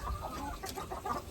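Chickens cluck and fuss at close range on a farm, their short clucks scattered over a steady outdoor background with no talking.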